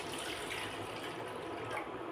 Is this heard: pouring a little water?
yes